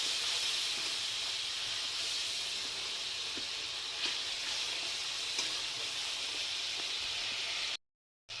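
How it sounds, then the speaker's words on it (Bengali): Soaked ground cumin, coriander, turmeric and chilli powder sautéing in a pan, a continuous loud hiss and sizzle with faint stirring scrapes, cutting out abruptly near the end. "এই যে গুঁড়ো মশলাটা ভিজিয়ে রেখেছিলাম সেটা দিয়ে দেবো। দিয়ে এবার এটা কষাতে থাকবো।"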